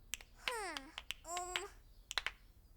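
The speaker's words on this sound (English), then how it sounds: "I snap my fingers" Crisp, close finger snaps come in a short, uneven run between bright, sliding musical tones in a children's cartoon music lesson, with no talk over them.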